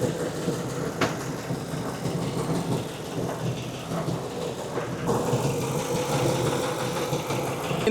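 A 2004 Ford F-150 engine idles after a radiator replacement, giving a steady, low mechanical rumble at close range with a few brief clanks.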